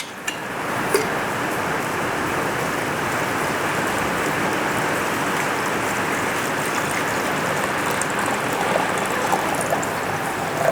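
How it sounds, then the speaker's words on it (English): Water poured into a bowl of chopped ginger and carrots while making ginger, orange and carrot juice, a steady continuous splashing rush lasting about eleven seconds, close and fairly loud with no talking. "You pour the water."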